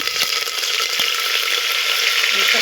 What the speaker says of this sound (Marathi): ही मोहरी जिरं टाकलं आणि टाकून देऊ आता कढीपत्ता